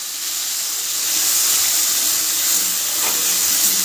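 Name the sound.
ginger paste sizzling in the pan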